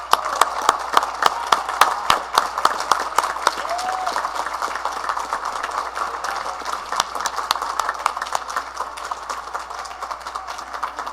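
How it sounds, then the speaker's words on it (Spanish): Members of the National Assembly applaud in the chamber, a steady patter of many hands clapping at moderate distance, continuous throughout with no talk over it. "le enviemos un fuerte aplauso al juez valiente, al doctor Serrano."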